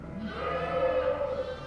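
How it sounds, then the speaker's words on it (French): A ewe bleats close and loud during spring lambing, giving one sustained wavering call that swells in the middle and then fades. "Plus de la moitié des brebis ont mis bas"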